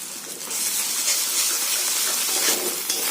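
Onions fry in oil, near and fairly loud, as a continuous bright sizzle with slight swells, and no one speaks over it.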